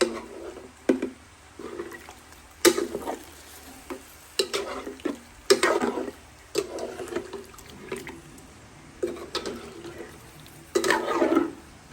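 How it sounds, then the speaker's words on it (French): Meat simmering gently in a pot for a rôti with potatoes, a soft bubbling bed broken by a series of sharp stirring scrapes and clatters at irregular intervals. "Je laisse la viande la cuire doucement."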